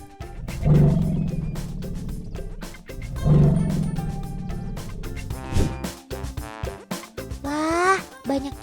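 Elephant trumpeting and rumbling in fright, with two loud bursts of low roaring sound followed by rising, wavering trumpet-like calls, close and prominent without speech.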